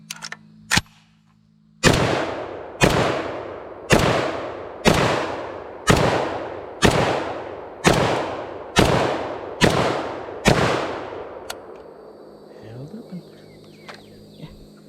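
An FEG HD18 Dragunov rifle fires about ten loud, evenly spaced shots through a magazine at an outdoor range, each crack followed by a short echo, then quieter handling noises afterward.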